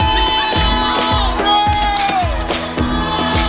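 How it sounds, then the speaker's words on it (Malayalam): Spectators crowd the bank and cheer loudly for a coracle boat race on the Kallar river, a dense continuous roar of shouts and whoops with rhythmic thumping beneath and children's voices mixed in. "ഒഴിയോല നിറഞ്ഞ ആസ്വാദകർ ആർപ്പുവിളികളോടെ മത്സരത്തിന് പ്രോത്സാഹനം പകർന്നു."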